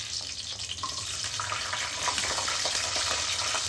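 Mustard seeds, dried chilli, curry leaves and onions frying in oil for chicken curry give a soft, steady sizzle with faint popping and crackle that grows slightly louder midway, no voices.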